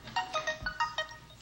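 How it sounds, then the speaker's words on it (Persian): A telephone ringtone plays a quick, repeating electronic melody of bright chiming notes, fairly faint and heard alone. "این زنگ تلفنو که شنیدین اینه که من گفتم برنامه‌ام تموم شده"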